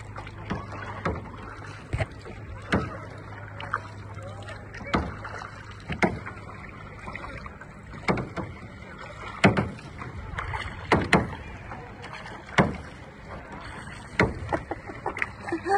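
Paddles dip and splash in a steady irregular rhythm, each stroke a short watery slap against the boat on a lagoon tour in El Nido, Philippines, with wind and water around.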